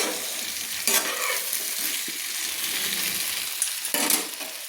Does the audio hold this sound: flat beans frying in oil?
yes